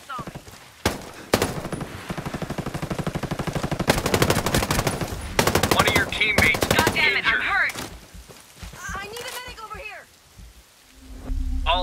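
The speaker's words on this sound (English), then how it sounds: "I'm hearing enemy fire." Enemy gunfire in the video game Ghost Recon Breakpoint: long bursts of rapid automatic fire, loud and close, with further shots and game effects afterward before the firing stops near the end.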